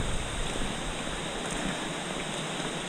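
Dampalit Falls waterfall roars with a broad, continuous rush of falling water, close and loud, a steady wash with no pauses and nothing else standing out.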